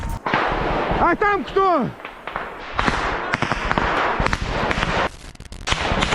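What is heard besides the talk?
gunfire in combat between Ukrainian soldiers and Russian infantry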